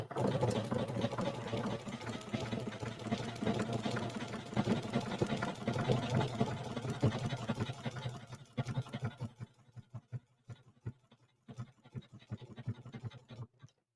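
A sewing machine stitches a satin-stitch applique onto a beach towel, whirring in a fast, continuous run at first and then breaking into shorter, stop-start bursts near the end.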